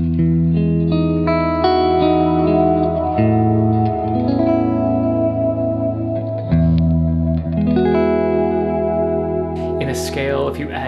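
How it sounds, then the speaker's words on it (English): An electric guitar strums chords with an added ninth, heavy with chorus, echo, reverb and light distortion, ringing out in sustained, layered strokes for about eleven seconds, loud and steady with no talk over it. "On a chord, tension 9 or add 2 sounds great."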